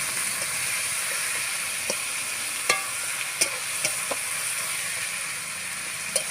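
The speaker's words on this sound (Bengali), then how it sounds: "পেঁয়াজটা এখন লাল লাল করে ভাজবে।" Onions frying in a pan for chicken curry make a loud, even sizzling hiss throughout, with a few sharp ladle taps and scrapes scattered over it and no one speaking.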